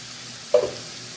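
Sauce poured into a pan of browned sausage and onion for a spicy inferno pasta, giving one brief, close sizzling burst that flares and fades within a moment over a quiet background.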